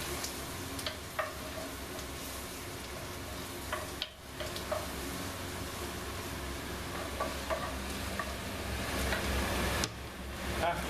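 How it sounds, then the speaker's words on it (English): Flour being stirred into hot fat in a pan for a roux, the base of a homemade demi-glace, gives a steady close sizzle and frying hiss throughout, broken by occasional scraping clicks of a utensil against the pan. "I'm going to put in the flour, just give it a quick good mix."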